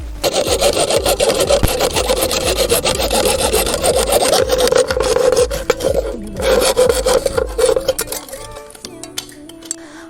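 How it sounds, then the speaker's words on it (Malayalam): A PVC pipe is cut by hand at a marked point for a bicycle-powered water pump, the rapid rasping back-and-forth strokes of the saw loud and close, continuous for several seconds before slowing and stopping. "അപ്പോൾ ഈ ഒരു മാർക്കിൽ നമുക്ക് ഇത് കട്ട് ചെയ്യണുണ്ടോ. കട്ട് ചെയ്യണോ അവിടെ വെച്ച് കട്ട് ചെയ്തു."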